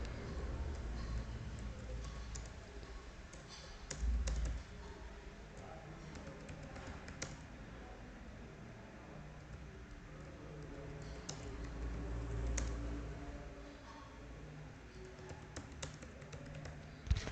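Soft, irregular keystrokes on a computer keyboard while HTML is typed, faint and steady through the stretch with a few louder taps and low background hum.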